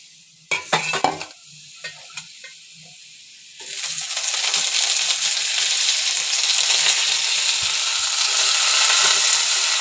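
Washed dried fish (shutki) dropped into a hot pan with browned onions, first a few scattered clinks and stirring taps, then a sudden loud, dense sizzle that swells and holds steady to the end.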